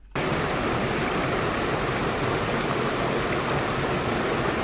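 A waterfall near a river pours in a steady, loud, broadband rush that fills the whole stretch without pause, close and alone with no voices.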